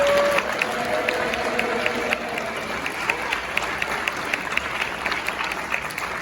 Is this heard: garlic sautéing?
no